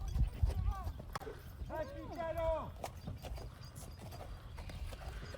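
Horse hooves clop in a video game, rhythmic clip-clop steps with a brief whinny, faint and mixed under someone talking in French, with scattered game noise around them.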